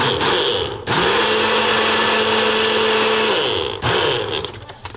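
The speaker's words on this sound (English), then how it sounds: "make it blend for another 5 seconds" A kitchen blender whirs through a fruit shake, starting abruptly, holding a loud steady motor whine for about three seconds, then cutting off before a second short burst.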